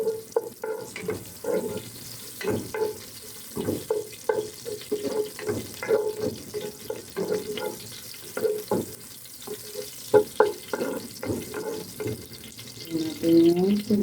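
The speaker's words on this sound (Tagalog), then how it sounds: "magigisa na ako. Lagyan ko na rin siya ng mantika." Ginger sautéing in cooking oil for chicken sinigang, with close, uneven sizzling and stirring knocks in a pan throughout, a few sharper clinks of a utensil against the pan, and a brief voice toward the end.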